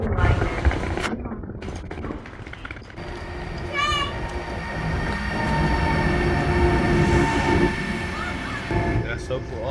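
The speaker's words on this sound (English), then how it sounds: "That's a boy, double decker bad boy. Santa Claus's train" A double-decker train bound for Lapland rumbles steadily along with a brief wheel squeal partway through, while people talk over the noise.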